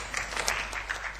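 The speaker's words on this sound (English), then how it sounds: "Let's give him a round of applause." A seminar audience at a 2012 defence conference gives a brief, even round of applause, a short wash of clapping that carries on throughout.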